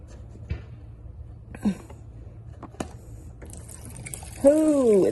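Water runs and splashes out of a Miller Bobcat 225G welder/generator, a steady trickling pour that swells louder near the end, with scattered clunks and a voice nearby.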